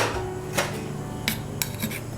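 Spice powders of mace, nutmeg and cardamom, plus rice flour, go into a mixing bowl, a few clinking taps of a spoon against the bowl over a steady background hum.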